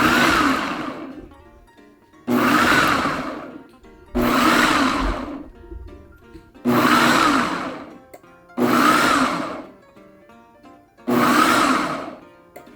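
Blender mincing beef rib meat in six loud, even bursts of motor whir, each about two seconds long, separated by short pauses.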